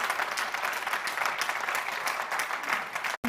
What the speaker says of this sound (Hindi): एक बार जोरदार ताली बजा करके हमारे इस कार्यक्रम को